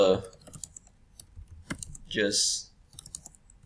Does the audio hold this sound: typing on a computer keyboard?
yes